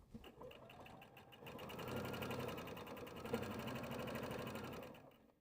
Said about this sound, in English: The next thing we're going to do is to stitch around the top of our project.